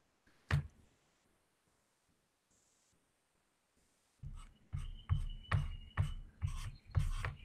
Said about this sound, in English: I take my little gummed eraser, which is like a Faber-Castell